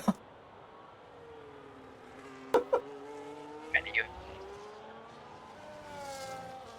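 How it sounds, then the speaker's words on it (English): In a racing video game, a Mercedes race car laps Silverstone with a steady engine drone rising in pitch through the gears, plus a few sharp clicks and tire squeals, while commentators talk over it. "Alright, Magnus Sheep, the sheep himself around Silverstone in a Mercedes this time, out of all cars."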